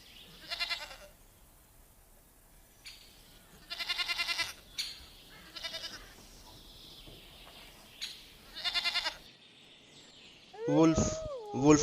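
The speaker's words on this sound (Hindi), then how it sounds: "गॉट, गॉट को हिंदी में बकरी कहते हैं।" A goat bleats in a series of loud, quavering bursts with short pauses between them, followed at the very end by a brief, strained cry.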